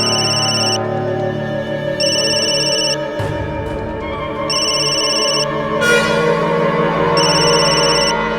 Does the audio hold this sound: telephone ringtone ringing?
yes